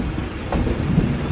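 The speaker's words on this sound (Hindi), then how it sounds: "MEMU express arriving on" A MEMU express train arrives at platform 6 of Saharanpur Junction railway station, a continuous loud rumble of rolling wagons with wheel clatter, close by and with no voices over it.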